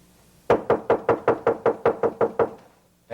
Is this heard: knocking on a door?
yes